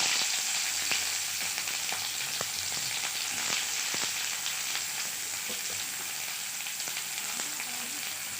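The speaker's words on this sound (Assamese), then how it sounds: "কেৰাহীত তেল গৰম হৈছে, এতিয়া মই ইয়াত দিম পিঁয়াজ।" Onion hits hot oil in a wok (kadai) and fries with a loud, continuous sizzle, broken by small scattered pops and scrapes; no talking.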